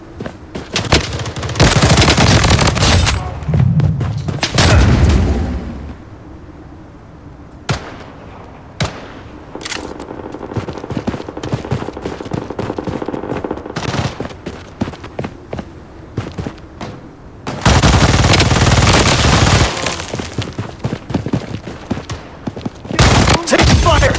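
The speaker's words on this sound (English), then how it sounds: "Taking fire!" Heavy automatic gunfire in the mobile shooter game Blood Strike comes in long, loud, close bursts, with quieter stretches of scattered single shots and footsteps between them, while a player talks over the action.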